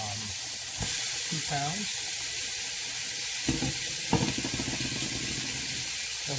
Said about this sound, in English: the ground beef goes in very hot skillet